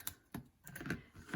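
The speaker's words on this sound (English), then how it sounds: "Use the scissors to trim that," Quiet, close snips and light crinkles as scissors trim red adhesive tape on a card, several short irregular cuts with no talking.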